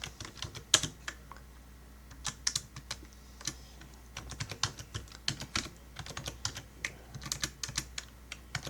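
Rapid, irregular clicking of a computer keyboard being typed on, with keystrokes coming in short bursts and brief pauses, close and fairly quiet, with no voices.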